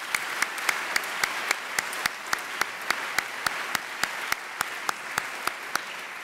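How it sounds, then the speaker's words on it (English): Audience at a Lancashire Constabulary attestation ceremony for new volunteer police cadets applauds steadily, a dense wash of clapping with a few sharper individual claps standing out, no talk over it. "Let's give them another round of applause."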